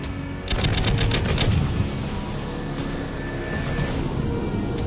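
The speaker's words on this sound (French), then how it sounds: "Tir de sommation au canon." A fighter jet fires cannon warning shots in a reconstruction of the Korean Air Lines Flight 007 airliner interception, a rapid rattling burst of gunfire over a steady jet engine roar that continues after the firing stops.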